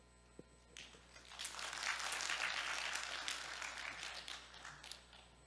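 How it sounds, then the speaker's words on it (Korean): An audience applauds at the end of a monthly staff lecture on nuclear power at Seoul National University, a burst of clapping that swells and then tapers off over a few seconds, heard from within the room. "주한규 교수님께 다시 한번 큰 박수 부탁드립니다"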